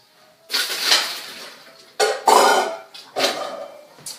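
Metal pan lifted and shifted on a kitchen stove, several loud clanking, scraping handling sounds in separate bursts, close by, with no talking.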